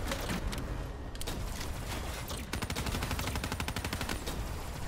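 Rapid automatic gunfire from a weapon in the video game Black Ops 3, dense bursts of rattling shots that briefly pause and resume, loud and close.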